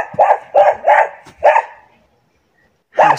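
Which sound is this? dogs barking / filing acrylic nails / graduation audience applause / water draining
dogs barking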